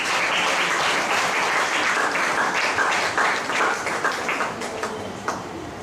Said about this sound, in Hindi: ताली बजाकर प्रभु को धन्यवाद करो।